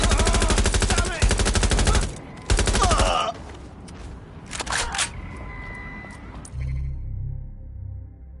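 Gunfire in the video game Watch Dogs Legion: dense, loud rapid bursts of automatic shots up front, then scattered fainter shots and effects fading out.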